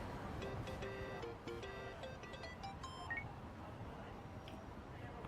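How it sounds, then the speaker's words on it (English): A bright electronic phone ringtone in the video game Yakuza: Like a Dragon plays a quick melodic jingle of beeping tones over a steady soft background hum. "It's kind of a fun ringtone."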